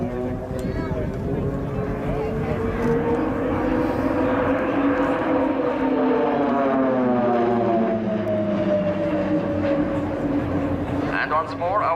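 Swiss Air Force Pilatus PC-7 propeller aircraft flying a solo display at an international airshow, a loud continuous propeller drone whose pitch slowly rises and falls as it passes nearby.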